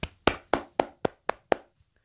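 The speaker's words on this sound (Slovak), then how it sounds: "potlesk" Seven sharp, evenly spaced hand claps, close and dry, slowing a little toward the end and then stopping, with no talking.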